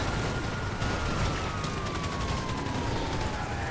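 Dense, continuous video game gunfire, with shotgun blasts and rapid shots layered into a loud, busy battle mix with no pause.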